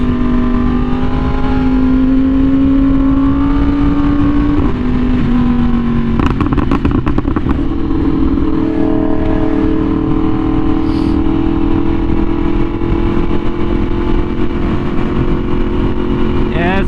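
A Yamaha R1M sport motorcycle being ridden on a chilly day, its engine a steady close drone that climbs briefly in pitch as the rider accelerates, with constant wind rush over it.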